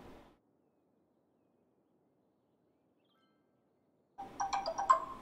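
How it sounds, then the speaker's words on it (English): A mobile phone ringtone starts up near the end, a short bright melodic trill rising out of near silence after a brief bit of background noise at the start. "My phone's going off."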